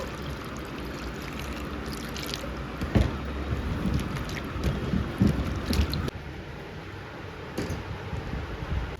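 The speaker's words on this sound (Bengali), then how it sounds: "আলুগুলো তো কাটা হয়ে গেছে, এগুলোকে এখন একবার ধুয়ে নেব" Halved potatoes are swished and rinsed in a bowl of water, a continuous sloshing and splashing with occasional knocks and drips close by, with no talking.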